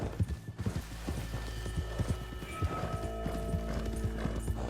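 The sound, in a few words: horse galloping hoofbeats in a video game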